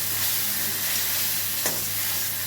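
Rice frying in a pan, a bright steady sizzling hiss up close, with one brief stirring scrape partway through and no voices.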